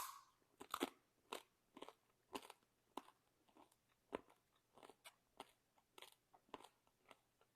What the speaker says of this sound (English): it almost goes to like squeaky cheese curds as I'm chewing on it, but yet it's crisp when I bite into it